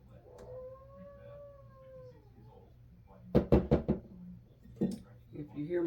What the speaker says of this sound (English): If you hear my dog over there, she's just gonna keep on crying